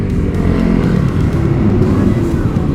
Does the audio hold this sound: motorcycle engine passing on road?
yes